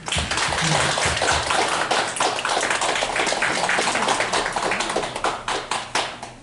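Church congregation applauding during a Christmas service, dense continuous clapping that stays loud throughout and thins slightly into a few scattered claps at the end.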